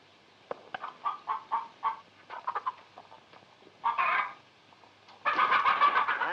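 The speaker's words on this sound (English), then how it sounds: "Well, feed the chickens." Chickens on a farm clucking in a series of short, bright rhythmic clucks, then a longer squawk and a louder, sustained cackling burst at the end, close and clear with no voices.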